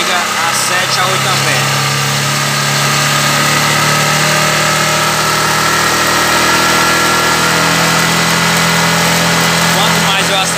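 A Honda CG 150 Sport motorcycle engine runs close by with a steady, loud drone and slight rises in pitch as the throttle opens, while a voice talks over it.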